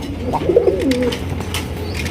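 Pigeons at a breeding farm coo softly nearby, a short rolling coo rising and falling over a steady background murmur.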